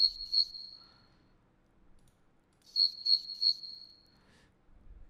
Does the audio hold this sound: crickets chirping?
yes